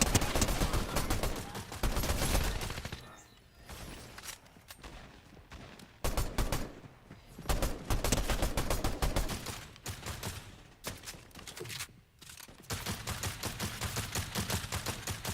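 Sustained bursts of automatic gunfire and rapid shots from a Call of Duty Zombies match, loud and dense with brief lulls, continuing over roughly fifteen seconds without speech.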